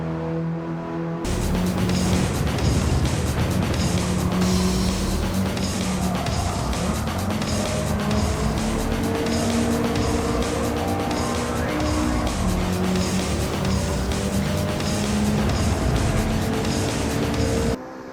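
A rally-bred race car engine in Gran Turismo 7 roars steadily and loudly throughout, with tires squealing and skidding over the constant drone; no one speaks.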